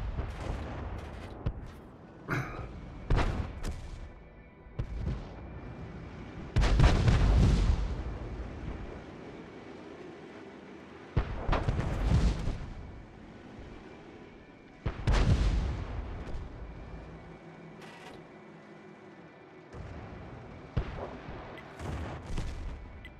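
Tank cannons fire in the video game World of Tanks, with several heavy booming blasts spaced a few seconds apart, each followed by a rumbling decay, over a continuous mechanical engine hum.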